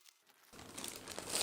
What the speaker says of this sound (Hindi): ये देखिए, मैंने इस पॉलिथीन को कट कर लिया है।